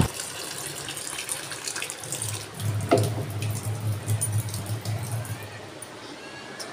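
Water runs steadily from a tap into a sink while food is quickly washed, a continuous gushing flow with splashes and clatter, fairly close.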